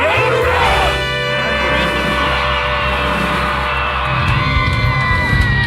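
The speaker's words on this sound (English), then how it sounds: "That's a big crowd." A huge crowd of soldiers at Camp Pendleton, numbering in the tens of thousands, cheers, whoops and yells continuously and loudly throughout, a dense roar of many voices close and all around.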